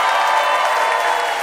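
A radio debate show audience applauding to vote for a debater, a steady, loud wash of clapping with no pauses across the short stretch.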